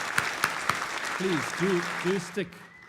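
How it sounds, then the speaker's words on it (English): A crowd at an awards show applauds with a steady wash of clapping while a voice speaks over it, then the sound cuts off abruptly. "We want to applaud you more than ever before."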